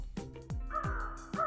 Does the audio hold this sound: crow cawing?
yes